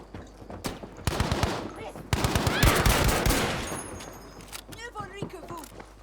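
Lewis machine gun in Battlefield V firing loud, rapid bursts of automatic fire, with several voices talking excitedly over the shooting.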